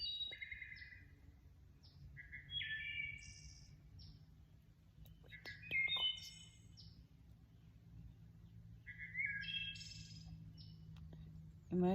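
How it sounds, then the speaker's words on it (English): Several birds chirp and sing in short bright bursts along the Appalachian Trail, fairly close over a steady low outdoor hum, with calls recurring irregularly throughout. "Listen to the birds singing."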